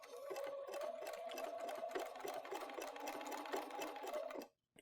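A sewing machine joins crochet-inspired embroidery pieces with a connector stitch, running in a steady, close, rapid hum of stitching for a few seconds before it stops abruptly.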